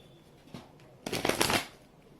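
Angel Therapy oracle cards being shuffled by hand, a faint riffle at first followed by a louder half-second burst of flicking cards, close and alone.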